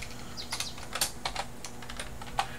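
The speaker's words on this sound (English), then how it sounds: "You could either just type this in" Quick, light clicking of typing on a computer keyboard, a run of irregular keystrokes close by and at low level with a faint background hum.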